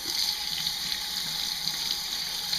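A squid tube is rinsed under a running tap, giving a steady, close hiss and splash of flowing water with no speech over it.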